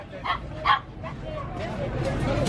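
Puppies yip and bark in short high bursts at a busy Sunday pet market in Hai Phong, Vietnam, heard near at first amid crowd babble and people talking.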